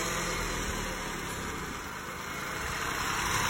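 A car engine idles steadily at close range throughout a workshop sound check, a continuous low rumble with no talk over it.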